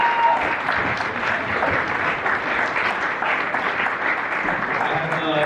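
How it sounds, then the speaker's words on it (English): Applause at a school athletic awards dinner honoring a championship volleyball team, a sustained dense round of clapping from a crowd indoors, close and fairly loud throughout. "the volleyball team there deserves a little extra round of applause"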